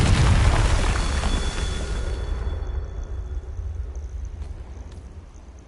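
A Confringo blasting spell goes off in a Hogwarts video game: one loud, deep booming explosion at the start, its rumble fading away over several seconds.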